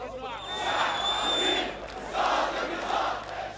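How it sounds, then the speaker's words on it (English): Protest crowd in the streets of Alexandria, Egypt, with many voices chanting and shouting together in loud, swelling waves, a sustained roar rising and falling across the scene. "Some onlookers joined in the chants"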